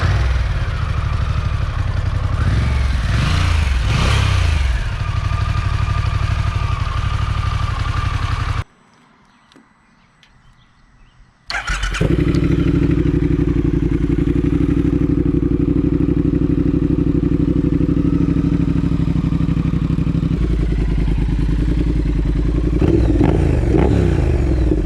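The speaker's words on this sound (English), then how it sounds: "let's get a little exhaust clip for you guys" A Harley-Davidson Pan America 1250 adventure motorcycle idling and revving close up, a loud steady exhaust rumble broken by a brief cut near the middle, then a deeper throttle blip toward the end.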